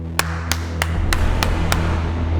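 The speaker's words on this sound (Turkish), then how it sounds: "Ezel'e alkış." One person claps slowly and sarcastically, six sharp, evenly spaced claps close by, over a low steady hum.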